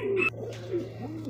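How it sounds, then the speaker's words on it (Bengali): Pigeons coo in a short, low, throaty burst, a couple of soft rolling calls close by over a faint background hum. "দর্শক দেখতে পাচ্ছি এখানে 2 পিস কবুতর"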